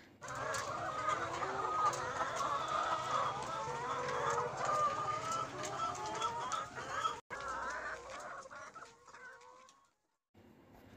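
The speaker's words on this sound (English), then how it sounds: "H for hen. H for hen." Hens cluck continuously in a busy flock, a dense chatter of overlapping calls close by that thins out toward the end.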